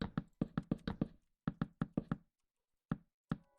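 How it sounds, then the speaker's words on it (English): Repeated sharp knocks from breaking wall blocks in the Minecraft video game, a fast burst of about seven hits, a short pause, then five more, and two isolated knocks after a gap, fairly close and clear with no talk. "you can knock the wall out"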